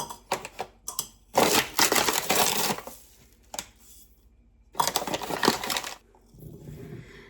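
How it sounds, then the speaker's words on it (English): Sugar pours into a saucepan in two long granular rushes separated by quieter ticks and taps, close and crisp with no talk. "Now I'm adding in some sugar."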